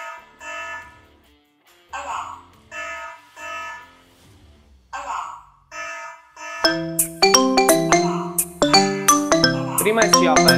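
A mobile phone rings with an incoming call from a Hikvision AX PRO GSM alarm system, first a repeating chime pattern in spaced bursts, then a louder, busier melodic ringtone, close and continuous.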